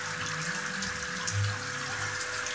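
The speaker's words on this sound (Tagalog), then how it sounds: "Mahina yung tubig." Thin stream of water running from a tap at a catfish hatchery, a soft, steady trickle and splash with a faint hum underneath, no talk.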